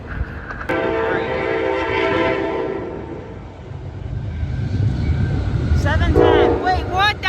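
A CSX freight train rumbles past at Amsterdam, New York. It sounds a loud, sustained multi-tone horn near the start and again near the end, over the continuous low rolling noise of the cars.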